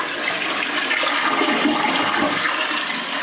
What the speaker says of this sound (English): you guys can see, it is flushing. Give it one more flush just so you guys can see